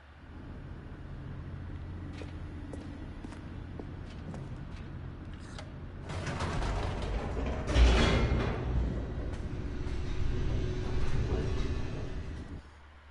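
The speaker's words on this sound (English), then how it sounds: "The elevator raced downward, plummeting towards an unknown fate." An elevator plummets downward in The Stanley Parable, a low mechanical rumble that swells into a loud rushing roar midway before cutting off abruptly.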